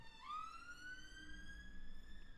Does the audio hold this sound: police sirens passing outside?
yes